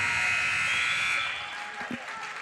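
Buzzer at a girls' high school basketball game sounds at the end of the third quarter, a loud sustained tone that cuts off after about a second, followed by crowd noise.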